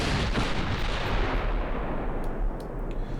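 Fourteen-inch naval guns fire in the warship game Ultimate Admiral Dreadnoughts, a heavy booming blast with a deep rumbling roll that fades over a few seconds, loud and alone.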